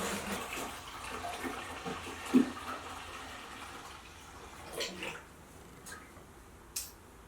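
Water pours into a beer fermenter, giving a hollow splashing flow with a few sharper gurgles and sloshes, moderately close and without speech.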